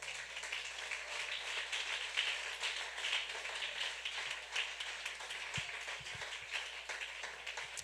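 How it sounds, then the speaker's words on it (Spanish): Church congregation applauding during a Spanish-language sermon, a steady wash of clapping from many hands filling the room at even volume throughout, with no one speaking over it. "El otro aplauso al Señor."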